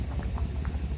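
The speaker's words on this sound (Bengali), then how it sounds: "জলটা ফুটাও শুরু হয়ে গেছে।" Water bubbling at a steady boil in a pan with fried spice paste for a cauliflower, potato and lentil-fritter curry, a continuous close burble of small pops.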